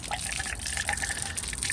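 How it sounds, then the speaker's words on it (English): Water flows steadily out of a valve from a flooded roof pump, a continuous splashing gush with trickling, dripping detail, nearby and without speech. "see if it causes the water to completely flow out of that valve"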